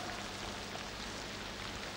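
Rain falls in a steady, even hiss, a broad wash of drops on surfaces that runs unbroken and fairly close, with no voices over it.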